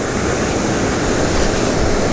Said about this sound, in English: the current's coming down fast from the waterfall